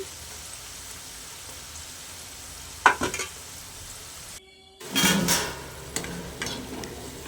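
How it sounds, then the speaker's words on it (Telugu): Jackfruit bulbs deep-frying in oil, a low steady sizzle with a couple of louder bursts of crackling as pieces are stirred, close and with no voices. "గోల్డెన్ కలర్లోకి వచ్చేదాకా వేయించుకోవాలి."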